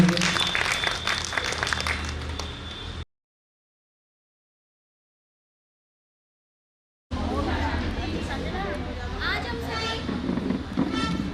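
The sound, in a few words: audience applause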